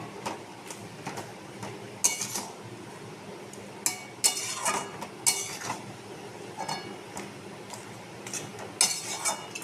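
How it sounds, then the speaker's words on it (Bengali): A ladle scrapes and clinks against a pot of boiled vegetables with fish head and Malabar spinach. It makes irregular metallic knocks and rattling strokes, some sharp and loud, over a quiet background. No one talks. "সবজি সব সিদ্ধ হয়ে গেছে, ভালো করে হাতা দিয়ে নেড়ে দেবো"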